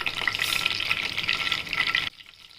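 Mustard seeds hit hot oil with a bright, intense sizzling hiss that runs steadily for about two seconds, then cuts off abruptly to near quiet; no speech.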